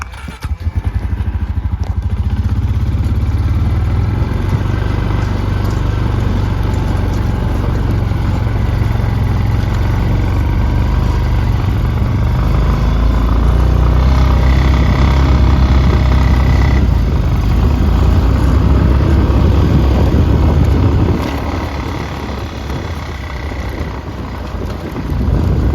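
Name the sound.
vehicle driving up a snowy hill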